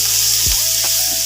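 Cubed tomatoes hit hot oil while sautéing for a pottukadalai sambar made without dal, giving a loud, steady sizzle close up, with a couple of brief stirring scrapes and a low thud as they drop in.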